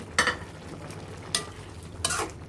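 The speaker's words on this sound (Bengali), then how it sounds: "এখন ভেজে রাখা মাছগুলো আমরা এর মাঝে দিয়ে দেব।" Fried shing fish being added to a simmering curry and stirred in a pan, a few scraping stir strokes against the metal at intervals over a soft background sizzle.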